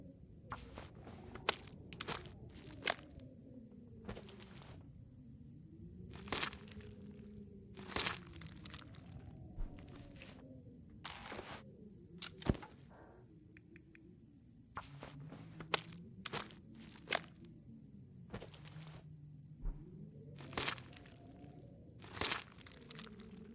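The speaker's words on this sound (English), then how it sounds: "I thought I heard some munching and chewing" A wolf in the survival game The Long Dark, heard munching and chewing food in repeated crunching, tearing bites at an irregular pace, close and clear over a low wind-like rumble.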